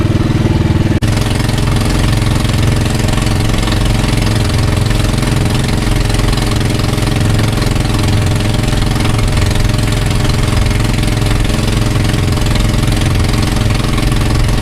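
A loud, steady boat engine drones continuously with a rough, throbbing low rumble, running without pause and no voices.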